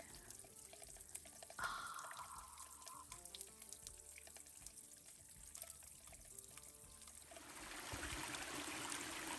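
River water flows along the Appalachian Trail as a soft, continuous trickling rush, faint and steady, growing slightly louder and broader toward the end.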